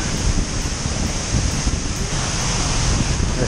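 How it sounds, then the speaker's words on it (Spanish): Misol-Ha waterfall in Mexico heard from behind the falling water, a dense, loud, unbroken roar of crashing water with no pauses or voices. "Pasar por detrás de la cascada."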